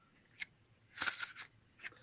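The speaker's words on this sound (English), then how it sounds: "A one-handed shuffle is kind of difficult, but it looks something like this." One-handed card shuffle: a few brief papery riffles and snaps of a deck, one short burst, then a longer rustling cluster, then another short flick, fairly faint and close with no talk.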